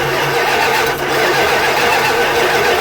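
A Plymouth Roadrunner's engine cranks with starting fluid, a steady loud churning that runs the whole stretch without catching, with a brief dip partway through.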